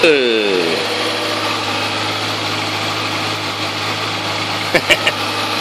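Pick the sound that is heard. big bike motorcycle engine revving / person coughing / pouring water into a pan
big bike motorcycle engine revving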